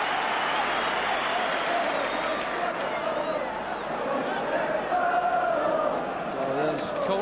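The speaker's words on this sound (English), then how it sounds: "Phillips reappears in the track to a burst of cheering" A stadium crowd at a Rangers v Porto Alegre football match keeps up a dense, sustained roar of cheering as a player returns to the field, while a commentator's voice talks over it throughout.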